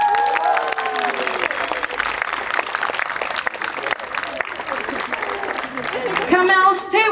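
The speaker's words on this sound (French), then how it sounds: "Est-ce qu'on peut l'applaudir" Audience applause and cheering at a Wakanda warrior show at Avengers Campus, loud sustained clapping and crowd noise with music and voices mixed in, swelling near the end.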